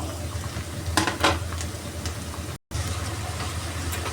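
Shredded cabbage fries in a pan with browned onions, giving a steady close sizzle with a few stirring scrapes and one brief cut to silence partway through.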